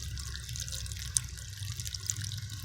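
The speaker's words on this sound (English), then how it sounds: "This is more of his waterfall." Water splashes and trickles continuously over rocks, a steady close rushing with occasional small drips.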